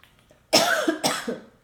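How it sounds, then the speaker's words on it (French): Two harsh, close coughs from a woman with a lingering cold, coming in quick succession after a brief quiet moment, loud and alone with no talk. "Je sais pas pourquoi je tousse."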